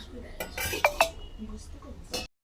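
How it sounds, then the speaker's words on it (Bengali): A metal lid clanks twice onto a pan of paneer curry on the stove, sharp close clinks among faint kitchen clatter. "এবার ঢাকনা দিয়ে ঢেকে দিলাম"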